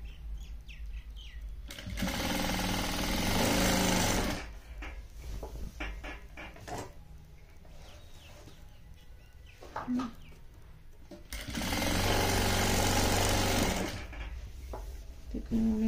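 A sewing machine stitches a plain pleated lehenga in two loud, steady bursts of a few seconds each, separated by a stretch of quieter room sound with brief speech.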